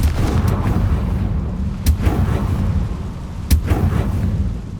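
Confringo blasting curse explosions in the Hogwarts Legacy video game during San Bakar's Trial, heavy booming blasts over a loud rumbling bed, with two sharp louder impacts standing out.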